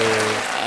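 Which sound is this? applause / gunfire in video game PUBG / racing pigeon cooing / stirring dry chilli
applause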